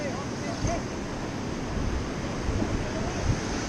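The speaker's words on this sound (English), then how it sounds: "get ready for this rapid" Whitewater roars through a level 3+ river rapid called roller coaster while rafting, a loud, steady, close rushing wash with occasional surges and wind buffeting the microphone.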